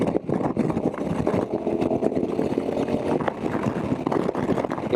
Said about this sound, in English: You get a lot of power just immediately when you twist the throttle on this bike.